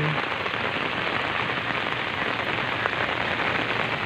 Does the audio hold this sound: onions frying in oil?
no